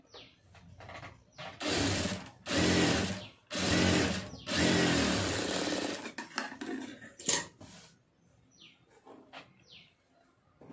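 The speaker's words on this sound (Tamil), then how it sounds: "இப்போ இதில் வந்து அப்படியே தையல் போட்டுக்கலாம்" A sewing machine stitches a lining blouse in several loud, close bursts of rapid whirring, each lasting about a second. Shorter runs and light clicks follow as the stitching slows and stops.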